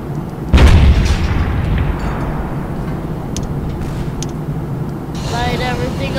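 A booming game explosion hits early, then a long rumbling roar with scattered crackles and faint distant chirps fading under it.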